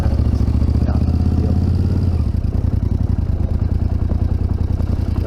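A 2021 KTM 890 Adventure motorcycle engine runs close by, a loud steady low rumble with rapid clattering pulses that shift slightly partway through, with no voices over it.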